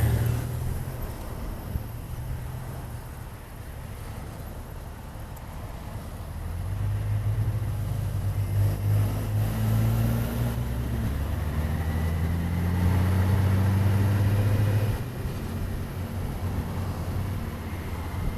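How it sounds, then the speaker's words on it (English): Motorcycle engine held at low speed with the clutch feathered and a little rear brake on, a steady low drone that swells and eases as revs rise and fall under wind noise. "So I've got a little rear brake on and feather in the clutch."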